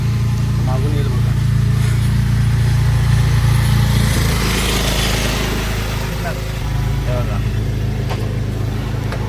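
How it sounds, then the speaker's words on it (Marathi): Mini tractor engine running steadily close by on a roadside at Bandhwadi junction, a loud continuous low mechanical drone that swells slightly as it passes. "एक ट्रॅक्टर चालवता मिनी ट्रॅक्टर"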